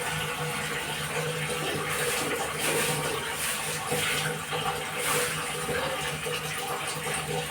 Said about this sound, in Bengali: মাছগুলো ধুয়ে নিই,